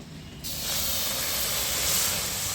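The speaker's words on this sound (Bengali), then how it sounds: "কড়াইয়ের মধ্যে অল্প একটু জল দিয়ে দেব" Water poured into a hot wok while making a tamarind recipe gives a loud, steady hiss of steam that bursts in and holds for about two seconds before cutting off.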